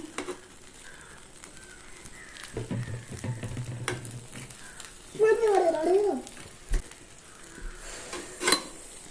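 A spoon stirs and mixes food in a frying pan with a steady low sizzle and scraping, while a person talks close by over the cooking.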